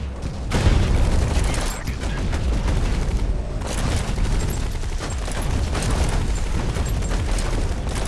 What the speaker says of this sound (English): When in doubt, shoot shoot the red barrels.